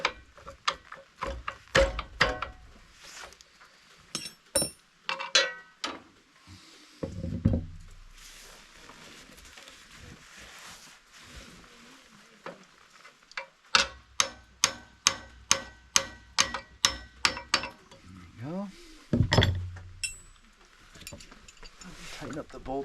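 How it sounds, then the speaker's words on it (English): The bolt on a Mobile Dimension sawmill edger blade is tightened with a wrench, giving runs of rapid close ratchet clicks in bursts with a pause between them, along with some talking. "Tighten up the bolt on the back of it."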